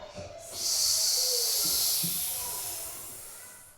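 A child imitates a snake's hiss after naming the animal for the teacher, one sustained, breathy hiss close to the microphone that lasts about two seconds and then fades out.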